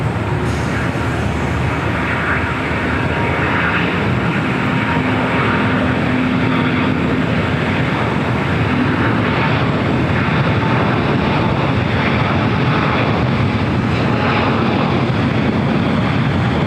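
An airliner rolling down runway 25 right at LAX for takeoff, a loud continuous engine roar and rumble holding steady throughout, with no talk.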